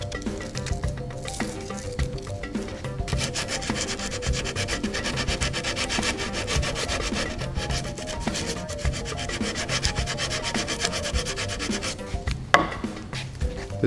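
A round rasp files a bicycle frame with a steady, continuous rhythmic scraping of fine rapid strokes that carries on without pause and sounds close.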